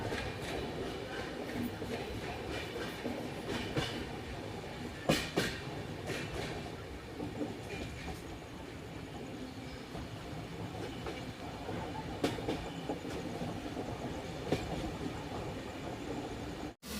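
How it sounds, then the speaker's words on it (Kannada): A passenger train rolls on after pulling out of Dharwad station, with a steady broadband rumble of wheels on track throughout and a few louder clacks and knocks from the carriage. No one speaks. "ನಮ್ಮ ಟ್ರೈನ್ ಈಗ ಧಾರವಾಡದಿಂದ ಹೊರಟಿದೆ."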